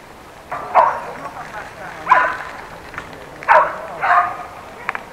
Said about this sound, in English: Two dogs attacking each other.